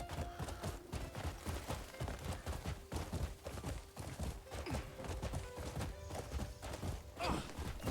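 Horse hooves clip-clop steadily in the Crimson Desert video game, a quick, even run of thudding footfalls close up over a busy background, with no talk.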